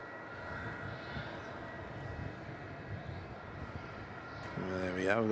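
An airliner taxiing at Melbourne Airport at night: a steady, distant engine rumble and whine holding throughout, rising in level near the end as a higher rising tone joins in.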